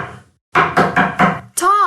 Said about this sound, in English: Margaret knocks at Tom's door.